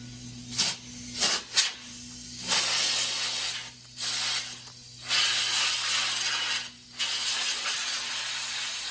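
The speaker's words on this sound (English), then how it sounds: "so you don't have to hear the compressor going off" Bursts of compressed air from an air compressor hiss loudly in several long blasts and short puffs, blowing dust from a Studer A820 tape machine card cage, separated by pauses, over a faint low steady hum.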